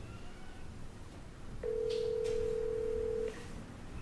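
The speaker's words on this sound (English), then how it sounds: "let's get Martin on the phone to see what he has to say for himself" A telephone call goes out: brief faint dialing clicks, then a single steady ringback tone held for under two seconds, followed by more faint clicks over quiet room hiss.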